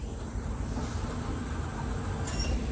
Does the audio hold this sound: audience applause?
no